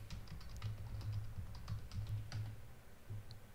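Quick, light keystrokes on a computer keyboard while logging in with a username and password, short bursts of clicking taps with brief pauses, close and fairly quiet.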